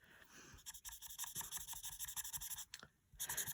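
A colorless blender marker rubs and scratches across paper in a rapid series of short, faint strokes, with a brief pause near the end before the rubbing resumes.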